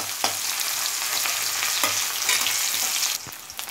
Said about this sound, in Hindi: प्याज को हम भून लेंगे 2 मिनट के लिए।